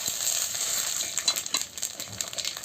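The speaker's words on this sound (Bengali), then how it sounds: "এবারে শুকনো লঙ্কা আর আমি ফোড়নটা দিয়ে দিচ্ছি।" Dry red chillies and whole spices crackle and sizzle in hot oil as a tempering for a silver carp fish head sour dish, a steady close hiss over a few seconds.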